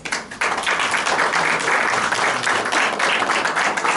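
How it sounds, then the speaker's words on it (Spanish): Church congregation giving applause to the Lord, loud, close, dense clapping that starts abruptly after a brief lull and carries on steadily to the end. "Dar un aplauso al Señor."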